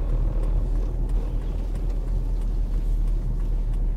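A car drives through Folkestone at night, its engine and road noise forming a steady low rumble from inside the cabin, constant and unbroken with no talking.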